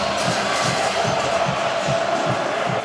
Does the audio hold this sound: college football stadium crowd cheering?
yes